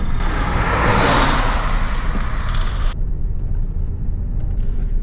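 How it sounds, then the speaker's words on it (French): Peugeot 308 BlueHDi 100 diesel car heard from the cabin while driving, a steady loud road and engine rumble with a hissing wash of noise that cuts off abruptly partway through. "on va commencer à rouler un peu plus fort là"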